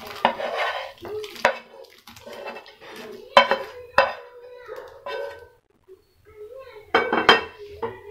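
Spoon stirring sautéed vegetables into a creamy white sauce in a pan for white sauce pasta, with clinks and scrapes against the metal, close and intermittent, under someone talking.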